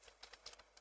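Keyboard typing a report title into a text box: several quiet, rapid key taps in an uneven sequence, faint and close.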